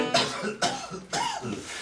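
Three short, sharp coughs in quick succession, close and fairly soft, with brief pauses between them.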